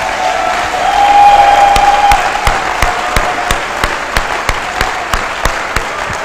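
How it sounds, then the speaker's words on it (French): Church congregation applauding in steady rhythmic claps, loud and close, continuing alone for several seconds with a brief sustained tone early on. "Acclamons la présence de notre Seigneur Jésus parmi nous."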